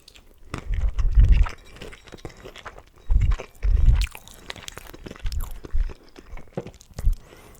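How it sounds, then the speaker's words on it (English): KFC fried chicken is eaten up close, with loud crunching bites and wet chewing in irregular bursts separated by short pauses. "continue eating with you all"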